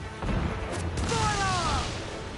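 A sailing ship's cannons fire a broadside in the video game Assassin's Creed Black Flag. A heavy booming burst rolls into rumbling crashes, and a shouted voice rings out over it.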